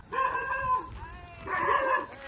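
Dangerous dogs kept tied up near a tiger trap baited with a chicken give two drawn-out, tonal barking and yelping bursts, fairly close and loud, separated by a brief lull.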